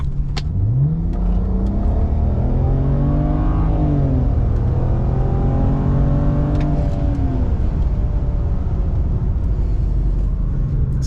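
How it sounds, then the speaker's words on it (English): BMW with an N54 engine and Alpina transmission flash, accelerating at wide open throttle onto a highway in D mode; loud, close engine note climbs through the gears in rising sweeps with brief dips at each shift. "Let's do a bit of a wide open throttle"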